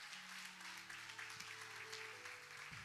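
Congregation applauding during a church service, a steady wash of clapping under a sustained organ or keyboard tone for about three seconds.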